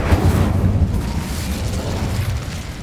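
An Incendio fire spell is cast in the Hogwarts Legacy video game, giving a loud, sustained booming roar with a heavy low rumble that holds steady for about three seconds before easing off slightly.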